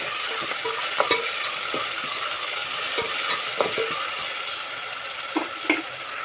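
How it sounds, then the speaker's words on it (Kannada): Masala paste for chicken gravy fries in a pan with a steady, hissing sizzle, broken by a few scattered clicks and scrapes from a stirring spoon, with no voices. "ಈಗ ಹಸಿ ಮೇಲೆ ಹೋಗೋ ತನಕ ಫ್ರೈ ಮಾಡ್ಕೋಬೇಕು"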